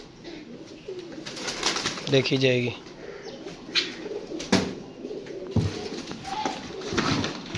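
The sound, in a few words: pigeons cooing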